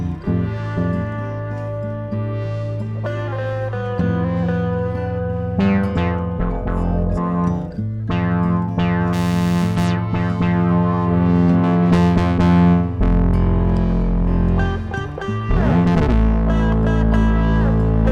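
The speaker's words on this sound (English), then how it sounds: "let's get some bass going" Bass guitar played through effects units with reverb in a recording studio, a loud, sustained run of low notes with distorted, echoing tone filling the whole stretch alone, no talking.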